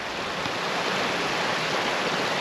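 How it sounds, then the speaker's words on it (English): Small mountain river flowing right beside the listener, a loud, steady broadband rush of water with no breaks or voices. "Quite a nice wee river here just beside me."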